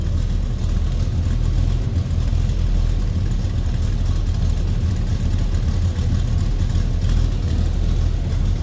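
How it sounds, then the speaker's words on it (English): A 1972 Chevrolet Chevelle Malibu Convertible idles with a deep, steady exhaust rumble, heard from close behind the car and continuous throughout with no talking. "Nice deep throaty exhaust note."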